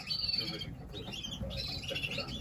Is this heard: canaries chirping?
yes